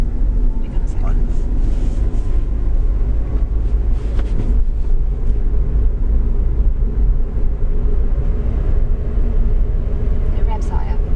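Toyota Yaris self-charging hybrid engine revving higher in B mode, heard from inside the car as a loud, steady drone of engine and road rumble that holds throughout without clear breaks.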